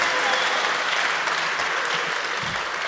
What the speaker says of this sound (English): So can we give Grant a big round of applause?